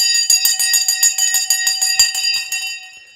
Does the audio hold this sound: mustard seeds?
no